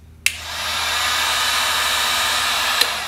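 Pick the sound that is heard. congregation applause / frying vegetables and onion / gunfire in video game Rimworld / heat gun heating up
heat gun heating up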